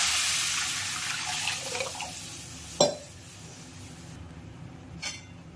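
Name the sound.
water poured into soaked rice for chicken dum biryani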